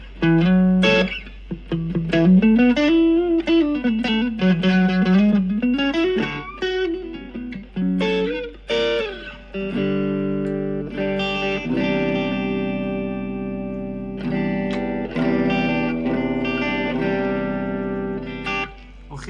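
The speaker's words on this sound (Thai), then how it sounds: "เปิดรีเวิร์บนิดนึง ให้ไฟขึ้นครับ" Electric guitar played through a Cube Baby Pro amp with light reverb, a sustained distorted melodic line of bends and slides, then ringing held chords with a reverb wash, loud and close.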